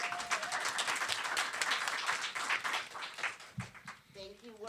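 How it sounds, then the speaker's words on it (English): A round of applause from an audience at a talk event, many hands clapping fairly close before fading as people begin talking and a voice is heard. "let's give a round of applause before I even introduce them"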